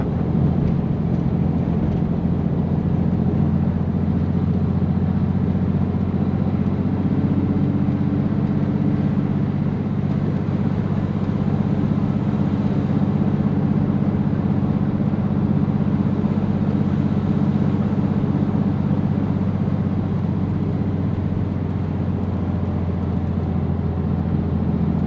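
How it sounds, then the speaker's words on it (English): A 1961 Mercedes 220Sb W111 engine pulls at a low 1500 RPM on a desert road near Borrego Springs, California, holding a steady, loud, low drone with road rumble throughout. "Still pulling at 1500 RPM. That's like real old school torque."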